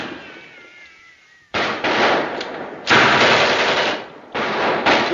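Rapid machine-gun fire from an old Mr. Moto film bursts out loud in three sustained volleys separated by short pauses, with no speech.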